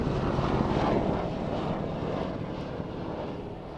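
Scorpion F3 military jet aircraft flying above an airfield, a steady, fairly distant engine roar that swells slightly and then fades a little, with no voices.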